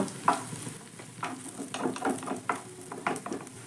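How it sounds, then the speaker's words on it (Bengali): An egg fries and is scrambled in a hot oiled pan, soft sizzling under light scraping strokes of a spatula, close and fairly quiet with no talking. "তো এক সাইডে এইভাবে ডিমটা দিয়ে ডিমটাকে একটু ভুজিয়ার মতো করে ভেজে নেব।"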